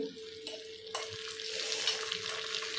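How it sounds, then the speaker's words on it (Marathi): Tadka of urad dal, dried red chillies and curry leaves being stirred with a spoon for coconut and mint chutney, giving a steady oil sizzle with soft scraping that grows fuller and brighter partway through, no voices. "सर्व तडका आहे तो व्यवस्थित चमच्याने हलवून घ्यायचा"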